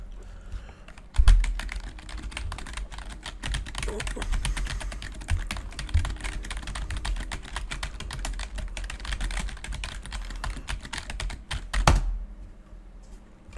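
Computer keyboard typed steadily from behind a Razer Seiren Mini USB microphone, a dense run of rapid clicky keystrokes with a few louder thumps, captured fairly close.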